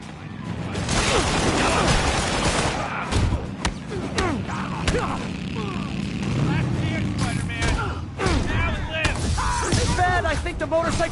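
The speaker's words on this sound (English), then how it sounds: "we have reports of gunfire coming from multiple vehicles" Gunfire erupts from several vehicles during a street chase in the Spider-Man PS4 video game, a busy stretch of thumps, shots and impacts layered over engine noise and game dialogue.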